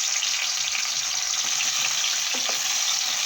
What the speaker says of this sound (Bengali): তো গরম হওয়া তেলের মধ্যে ঢ্যাঁড়সগুলো আমি দিয়ে দেব